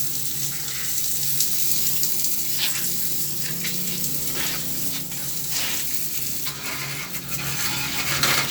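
A handheld water spray rinses dust from a window-type air conditioner, giving a steady hiss and splatter of water against the unit throughout, fairly close and loud, with no talk.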